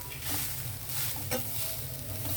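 Grated coconut sizzles and fries in a kadai while being stirred, a steady close-up crackle with soft scraping strokes throughout and no talking.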